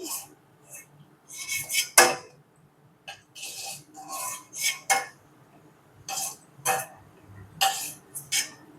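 Fried malai kaja sweets lifted from the pan onto a plate, a series of close metallic clinks and scrapes of a ladle against pan and plate, spaced irregularly with short quiet gaps.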